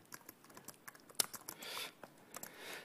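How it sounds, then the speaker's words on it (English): Someone types on a computer keyboard during a programming talk, irregular soft key clicks with one sharper tap and short bursts, quiet and close with no speech. "My typing's horrible today."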